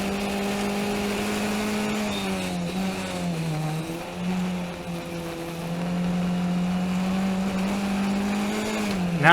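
A race car at Mid Ohio drives hard, its engine droning loud and close with a steady pitch that dips and rises through gear changes and corners, no talk over it.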